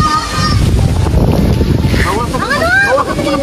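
Strong wind roars and buffets the microphone in a steady, heavy rumble, with faint voices partly buried underneath.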